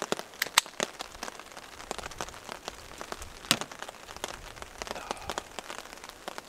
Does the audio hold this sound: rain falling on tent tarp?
yes